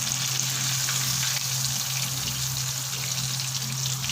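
Chicken leg pieces deep frying in hot oil, a steady dense sizzle and crackle running unbroken at close range, with no voices over it.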